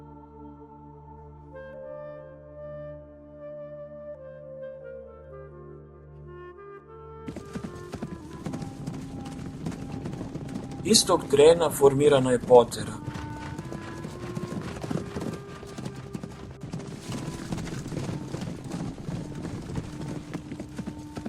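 Fast horses gallop toward the Holy Mountain in pursuit of a runaway prince: steady clip-clop hoofbeats come in after a stretch of music and continue under a narrator's voice, with a louder burst of hooves midway.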